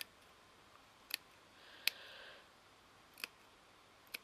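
Scissors snip through looped crochet doily thread in a quiet room, several short sharp cuts spaced about a second apart, close and faint, with no talking.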